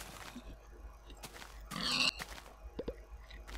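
A Minecraft pig gives short grunts amid faint game noises, with one louder burst in the middle and a couple of small oinks near the end.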